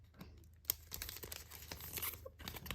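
Stuck tape peels off a photocard in soft, close tearing and crinkling bursts with small ticks, faint and intimate, with no talking.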